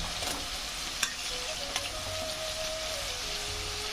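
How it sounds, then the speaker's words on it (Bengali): Spices and coriander powder are stirred in a frying pan, giving a continuous moderate sizzle with a soft scraping texture and a couple of faint utensil taps. No one speaks. "ধনিয়ার গুঁড়া দিয়ে একটু নাড়াচাড়া দিয়ে দিলাম"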